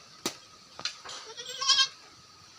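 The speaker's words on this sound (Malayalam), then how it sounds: "വളർത്തലേക്ക് അനുയോജ്യമായ ഒരു ആടുകുട്ടിയാണ്" A small Malabari cross goat kid bleats in a few short, close calls spread across a couple of seconds, with quiet background between them.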